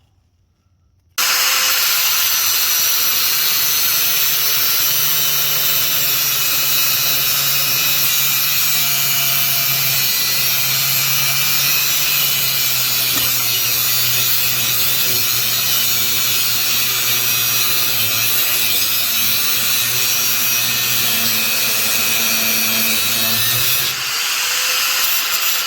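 A power cutting tool grinding through wheel studs on an Odes Dominator side-by-side, a loud, close, continuous high-pitched whine held for over twenty seconds without a break before it stops abruptly.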